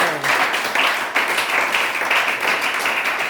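A church congregation applauding and acclaiming Jesus during a service, steady dense clapping that continues without a break at a loud, close level.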